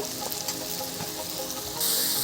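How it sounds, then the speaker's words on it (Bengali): Spices with coriander powder sizzle in a pan as they are sautéed for a chicken curry with potatoes, making a steady crackling fry with a few scraping stirs and a brighter hiss at the end. "এবারে মশলাটা খুব ভালোভাবে কষিয়ে নেব"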